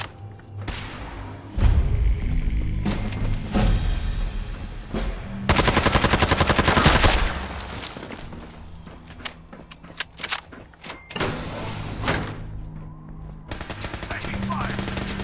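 Video game gunfire in Fallout 4 on PS5: rapid automatic bursts and single heavy shots with thumping impacts, one long sustained machine-gun stretch in the middle, mixed with game voices and combat noise.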